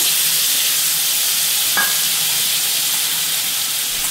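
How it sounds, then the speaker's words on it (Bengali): Onions fry in hot oil in a wok after nigella seeds, with a loud, unbroken close-up sizzle and a single faint tick partway through. "পেঁয়াজগুলো একটু ভেজে নেব হালকা লাল করে"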